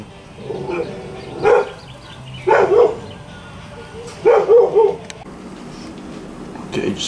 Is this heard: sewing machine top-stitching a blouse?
no